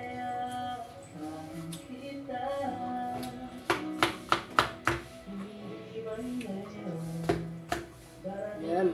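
A knife slices through food with a quick run of sharp, close cuts grouped near the middle and another near the end, heard against steady conversation and background sound.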